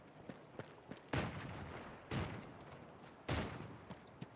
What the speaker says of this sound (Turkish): Hop silah sesi buradalar buradalar gel.